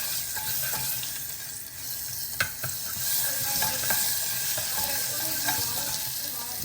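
Mustard seeds crackle and pop in hot oil for a Gujarati dinner dish, sharp scattered pops over a constant close sizzle.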